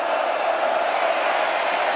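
A stadium crowd at a college football game between UCLA and Nebraska keeps up a steady, dense roar, loud and continuous throughout with no clear breaks.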